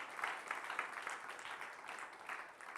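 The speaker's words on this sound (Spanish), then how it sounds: "Hermano, démosle un aplauso al Señor." Congregation clapping for the Lord during a church sermon, a faint, steady patter of many hands sustained throughout without a break.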